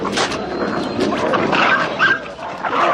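Several drug-sniffing dogs bark and yip continuously during a training exercise in Uzbekistan, loud and close, with overlapping barks and a few whimpers throughout.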